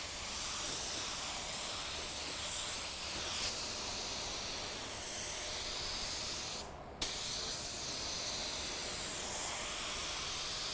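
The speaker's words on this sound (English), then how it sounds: "This spray's nice. I'm gonna bump up the air pressure just a little bit." A budget paint spray gun hisses steadily and loudly at slightly raised air pressure, with one brief cutoff before the spray resumes.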